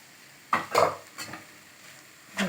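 Spoon scraping and stirring ground cumin, fennel and coconut into plantain podimas in a pan, a few separate soft strokes spread over the moment, fairly quiet and close with no voices.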